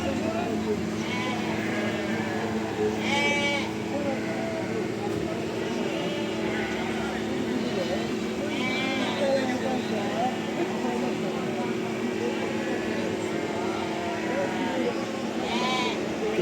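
Lambs bleat in bursts at a busy outdoor sheep market, their calls rising over a steady crowd murmur and an engine-like drone, with people talking throughout.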